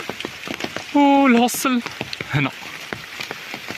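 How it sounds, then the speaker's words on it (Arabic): Light rain patters near a hostel in tea plantation country, a soft scattered crackle of drops under a man's close speech, with a brief burst of louder noise in the middle. "المهم شتا خيط من السما"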